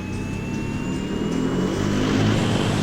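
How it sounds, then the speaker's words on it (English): CC-115 Buffalo search-and-rescue aircraft engines during a high-power run-up: a loud, steady turboprop roar with a sustained droning whine, rising slightly in strength throughout. "The high-power run-up confirms the engines will respond immediately when he takes them to max power."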